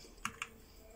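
Two crisp key presses on a Gamepower Katana keyboard with red mechanical switches, quick clicks in close succession, near and clear in a quiet room.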